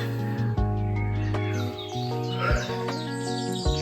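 A small bird rescued from a household dryer vent chirps and calls close to the microphone over several seconds, its notes mixed with a steady hum and some handling noise.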